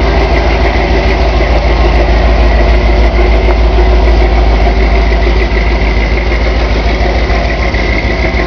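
A 1978 Ford Bronco Ranger XLT with a 460 big block V8 idles after a cold start, a loud, steady, deep low rumble running unbroken throughout with no voices.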